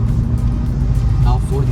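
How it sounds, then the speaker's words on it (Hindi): A 2022 Maruti Suzuki XL6 surges forward after a paddle-shift downshift, its engine a loud, steady low drone beneath a man's close-up talking. "जैसे मैंने गियर कम किया और एकदम से रफ्तार भरी"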